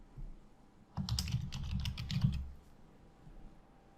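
Keys clatter on a computer keyboard as a title is typed into an Articulate Storyline slide, a brisk close burst of rapid keystrokes lasting under two seconds amid quiet room tone.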